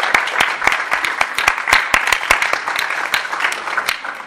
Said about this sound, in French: On peut applaudir avec un doigt, pas trop fort.